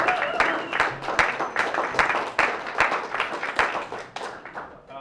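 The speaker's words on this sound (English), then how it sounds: "give them a round of applause" An audience at a book release reading in a gallery space applauds, with crisp individual claps forming a moderate, steady round for several seconds, close and fairly loud.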